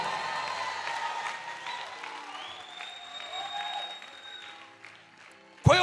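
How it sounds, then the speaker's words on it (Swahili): A church congregation claps during a sermon about the birth of Jesus, a soft rustling patter beneath sustained keyboard tones, ending in a sudden loud close burst. "piga makofi kwa ajili ya Yesu."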